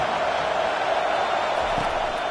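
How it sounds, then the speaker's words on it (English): A large football stadium crowd roars to help its defense, a dense, loud and unbroken wall of noise. The cheering stays constant throughout, with no pauses or distinct voices. "Listen to this crowd just shaking the girders of this place trying to help their defense."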